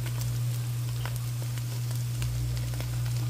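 Ground meat for sloppy joes frying in a pan, a close continuous sizzle with scattered crackles over a steady low hum, with no voices.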